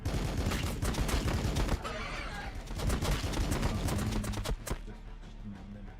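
Dense, sustained gunfire in a combat video game, bursts of shots piling over one another almost continuously before thinning out near the end, loud and close throughout.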